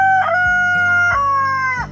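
A black copper Marans rooster crows once, loud and near, a single drawn-out cock-a-doodle-doo with a break in its middle and a falling end.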